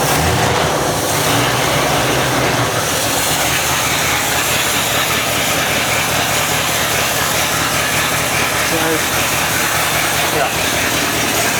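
A 1963 Ford Thunderbird engine, started after sitting for more than 35 years with no fuel pump and leaking fuel, runs loud and steady throughout with a rough, hissing roar, and a voice is briefly heard over it.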